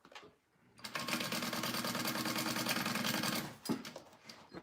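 A sewing machine runs steadily for about three seconds while stitching a Ludlow wristlet, with a close, even mechanical chatter, followed by a brief clunk and quieter handling noises.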